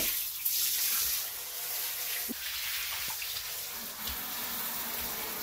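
A shower runs water over a very dirty dog during a camper van trip in the New Forest. The spray is a continuous close hiss with a few small knocks and splashes, and there is no talk.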